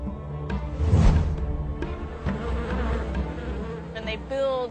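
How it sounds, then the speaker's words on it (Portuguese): A swarm of bees buzzes close by, a dense droning hum that swells and fades as insects fly past, with no voices. "as abelhas saíram dos favos e voaram em círculos em torno de Asenath, dos seus pés à sua cabeça"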